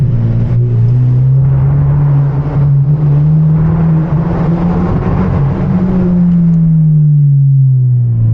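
A modified, turbocharged 2.0 car downshifts and accelerates through a tunnel at night. Its exhaust drones loud and booming in the enclosed space, the pitch rising and falling steadily, with no talking.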